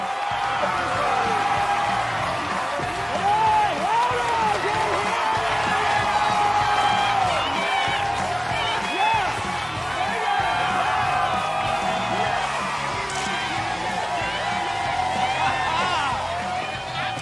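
A crowd cheering and whooping at a show in a movie, a steady dense roar of voices with whistles and shouts rising and falling throughout.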